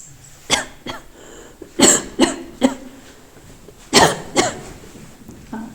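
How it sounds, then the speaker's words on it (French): Several sharp coughs in bursts inside an abandoned luxury château, a pair, then a triple, then another pair, close to the listener with quiet background between them. "Ah, ça me fait tousser."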